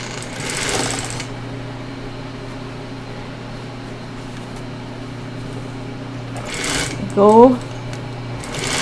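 A Singer 281-1 industrial sewing machine running in a production setting, a steady mechanical hum with a brief louder burst of stitching near the end and a short spoken word.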